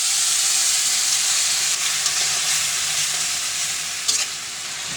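Garlic, turmeric, green chili and salt fry in a pan with water added, giving a steady, loud sizzle and hiss that runs unbroken throughout, with a few brief clinks from stirring near the end.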